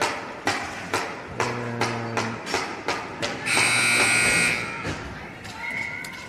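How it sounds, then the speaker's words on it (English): A ringette game's shot clock buzzer sounds a sustained electronic tone for about a second amid arena noise, with sharp stick and puck clacks and crowd voices around it. "Shot clock expires, buzzer goes off."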